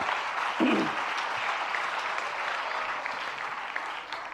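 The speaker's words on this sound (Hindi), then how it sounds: "जरा सभी मिलकर जोरदार तालियां।" An audience at a Jain religious discourse claps together in a sustained, fairly distant round of applause, even and continuous, with a brief louder burst near the start.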